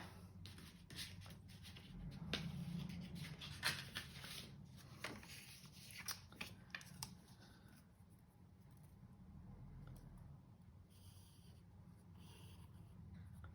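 Scissors snip through paper around a chipboard die cut, a close series of small crisp cuts and rustles with soft handling noises, with no talking.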